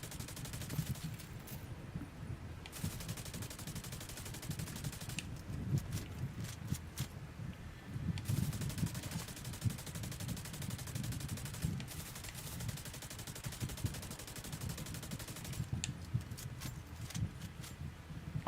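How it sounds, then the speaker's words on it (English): Light machine gun fire in a video game, a continuous rattling stream of rapid shots with brief pauses between bursts, steady and moderately distant under a low rumbling game backdrop. "I love having an LMG"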